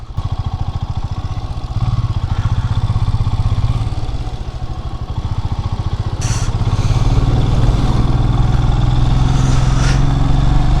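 A motorcycle engine labours loud and steady in low first or second gear up a very steep mountain road toward Darjeeling, a continuous close throbbing drone that swells louder toward the end.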